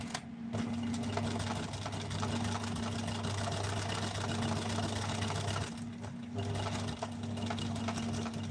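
Sewing machine running steadily while stitching a seam, a continuous close mechanical whir with a humming drone that briefly dips near the middle before resuming.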